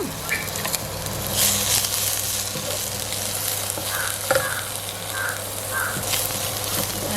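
Tomato and ginger-garlic paste sauté in a pan for Jaffna-style gram curry, sizzling loudly and steadily while the spoon scrapes and stirs. Faint bird calls sound in the distance.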